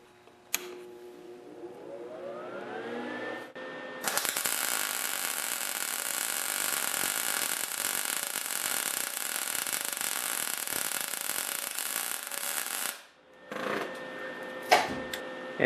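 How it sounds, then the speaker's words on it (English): A MIG welder tacks strips of weld onto a metal plate for a welding cart, giving a steady, loud crackling buzz that runs for about nine seconds without a break. Quieter handling noises come before and after the arc. "I'm going to fire up the MIG welder and tack it on."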